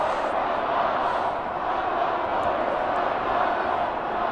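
A rugby crowd chants rhythmically around a stadium during a varsity rugby union match, a broad, steady roar of many voices filling the space, distant and continuous with no clear break.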